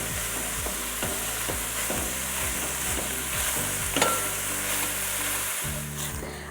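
Big handfuls of leafy garlicky greens sizzle and crackle in a hot pan, a steady loud frying hiss broken by repeated scraping stirs, with a single sharp clack near the end.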